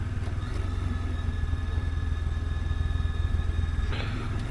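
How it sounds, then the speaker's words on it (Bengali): A motorcycle engine hums steadily while riding along a hilly road in Arunachal Pradesh, a constant low rumble with a brief swell of wind or passing noise near the end. "সোহমদের বাইক আমাদের আগে আছে।"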